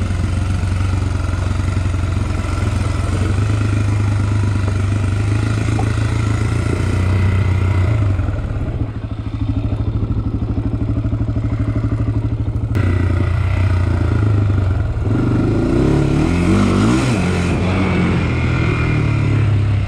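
A motorbike held in first gear while descending a steep mountain hill, its engine braking: a loud, continuous buzzing engine drone with rattling clatter, shifting slightly in pitch as it rolls down.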